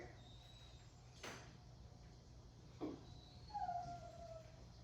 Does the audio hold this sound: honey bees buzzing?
no